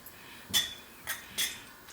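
A metal spoon clinks and scrapes against a clay pot of thick charred sweet corn porridge, three short bright strikes spaced across two seconds, close and fairly quiet with no talk.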